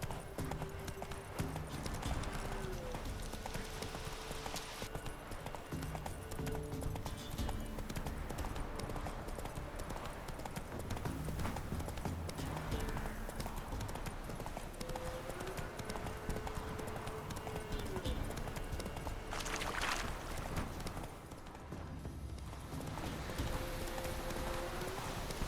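Horse hooves clip-clop steadily in The Witcher 3 video game, a rhythmic continuous beat under a rainy ambient bed, fairly faint overall.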